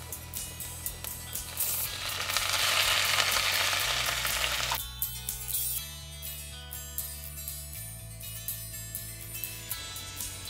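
Tomatoes tipped into golden-brown onions frying in a pan for fish curry, giving a loud broad sizzle that swells for a few seconds, then settles into a steadier frying crackle with a low hum beneath, no voices.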